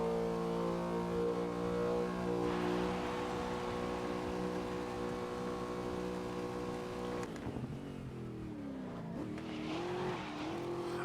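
A Ford GT40 engine in the GRID racing video game drones at a steady high pitch, then the revs drop and the engine wavers up and down as the car shifts and accelerates, loud and alone.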